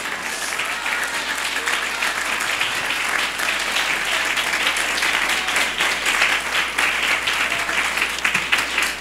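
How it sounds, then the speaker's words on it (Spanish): A church congregation applauds during a Spanish-language service, steady even clapping from many hands filling the room at moderate volume throughout, with a low hum beneath. "¿Cuántos le dan un aplauso al Señor"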